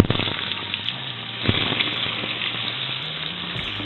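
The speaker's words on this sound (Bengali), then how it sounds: "এখন এর মধ্যে আমি দিয়ে দিচ্ছি 2টো মিডিয়াম সাইজের কেটে রাখা আলু।" Two medium-sized cut potatoes dropped into hot oil with tempering spices, giving a close, loud wet sizzle with a sharp burst near the middle, then a steady hiss without speech.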